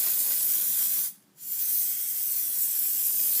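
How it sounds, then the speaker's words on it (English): Hairspray hisses from an aerosol can onto a mixed-media art journal page in two loud, close bursts separated by a brief pause. "I'm going to throw some hairspray on it."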